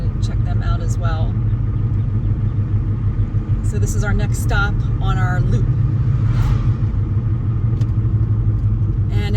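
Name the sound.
car pulling in at the Red Caboose Motel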